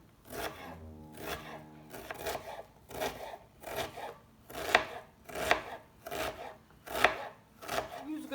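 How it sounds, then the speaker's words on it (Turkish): A knife chops a dry onion on a cutting board in a steady series of about a dozen crisp, evenly spaced cuts, close and fairly quiet with no one talking. "Şimdi bir adet kuru soğanım var. Onu doğruyorum."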